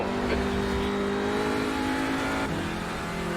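A race car in the iRacing sim drifts through a corner, its engine droning loud and steady at high revs with a brief tire squeal, a shift in pitch near the end.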